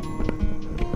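Horse hooves clip-clopping on a mountain trail, several close, uneven thuds in quick succession at moderate loudness with no talking over them.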